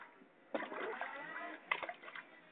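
A small child splashes water in a swimming pool, with two bursts of splashing and sloshing heard at moderate distance, through a muffled, narrow-sounding recording, under faint background voices.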